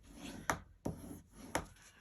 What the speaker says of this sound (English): score or burnish the score lines